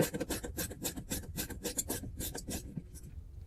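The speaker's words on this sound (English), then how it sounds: "I'm going to attach it to my ratcheting driver." A ratcheting driver works loose a bolt on a windshield wiper arm transmission, giving a rapid, close raspy clicking that rattles steadily for about three seconds before tapering off.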